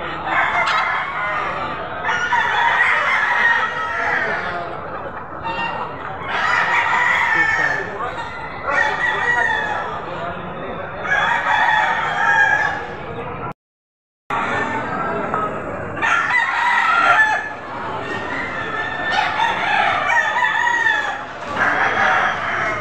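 Roosters crow repeatedly, several long calls in succession at close range, with some clucking and a brief silent gap midway.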